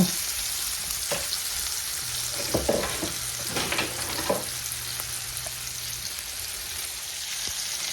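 A heavy chuck roast sears in a hot pan with a continuous sizzle, broken by louder crackling bursts as the meat is turned over, close and steady with no talking.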